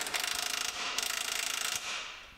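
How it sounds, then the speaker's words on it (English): A ratchet wrench tightens the long rack-and-pinion bolts on a Ram Promaster City, giving quick rhythmic clicking runs in two bursts with a short pause between, fairly close and fairly quiet, with no talking. "We got a wrench on the other side."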